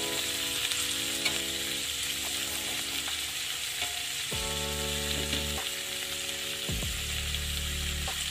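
Onions and vinegar sautéing in a pan for an adobo-style dish, a steady close sizzle and frying hiss with stirring scrapes throughout, alone with no talk.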